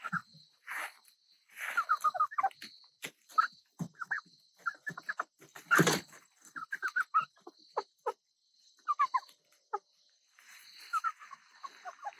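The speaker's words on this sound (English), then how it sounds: "Over here we have some chickens." Chickens cluck in short, irregular bursts at moderate distance, with a rooster-like squawk midway and quiet gaps between calls.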